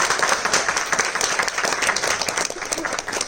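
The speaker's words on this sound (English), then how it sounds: "let's give her a round of applause" Steady applause from an audience greeting a graduate at an Aloha Dance Club event, dense continuous clapping at full volume throughout, with no talk over it.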